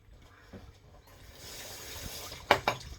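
Tap water running into a tin held under a kitchen faucet, a rising rush of flow with a couple of sharp splashes and clatters near the end, close by.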